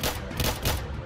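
Rapid gunfire in a shootout in the Roblox video game, a loud, close burst of several cracking shots in quick succession with no talk.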